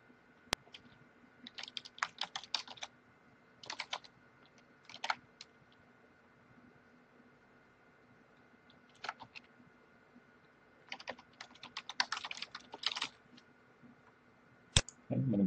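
Admin credentials being typed on a computer keyboard, a series of light key-click bursts separated by pauses, close and clear against a quiet background with no talk.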